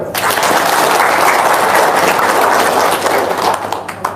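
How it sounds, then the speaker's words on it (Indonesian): A group clapping in dense, steady applause that holds at an even, loud level for about four seconds, with no talking over it. "Wow, tepuk tangan dong."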